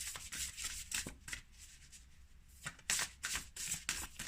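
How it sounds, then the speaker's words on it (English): Oracle cards shuffled during a spirit reading, a run of quick papery riffles and flutters in bursts with a brief pause in the middle, close and fairly soft, with no talking. "Let's pull another card for you."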